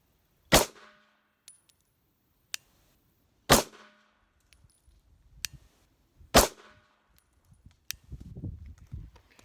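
Three sharp, loud Glock pistol shots fired one-handed, evenly spaced about three seconds apart, each with a brief ringing decay, followed by faint shuffling and handling noise.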